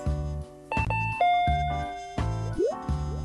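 A two-tone doorbell chime rings in a salesman video game, bright electronic ding-dong tones repeating several times over a looping musical background.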